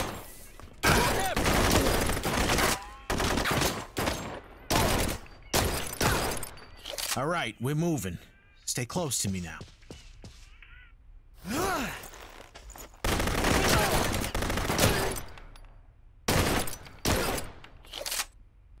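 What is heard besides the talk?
gunfire in a shootout scene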